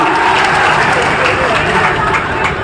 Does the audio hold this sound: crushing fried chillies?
no